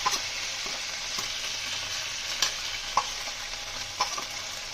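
Ground turmeric, coriander and chilli powder fry in hot oil, a steady close sizzle with a few sharp scraping stirs of a spoon against the pan.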